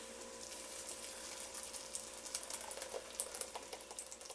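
Blended tomato sauce poured into a pot of chicken thighs, a soft steady sizzling and liquid hiss that grows into a splashier, bubbling patter toward the end, close and fairly quiet with no talk.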